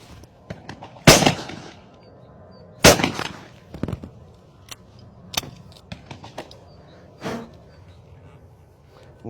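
A Beretta 695 over-under hunting shotgun fires at clay targets about 35 to 40 metres away. About five loud, sharp blasts come at uneven intervals, with a few fainter cracks between them over a quiet outdoor background.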